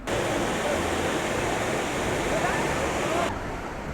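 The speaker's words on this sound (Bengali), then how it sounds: "ওই যে জায়গাগুলো দেখতে পাচ্ছ ওখান থেকে জল পড়ছে" Water pours down at Kanchenjunga Waterfall near Pelling in West Sikkim, a dense, loud, continuous roar that fills the scene before dropping away abruptly near the end.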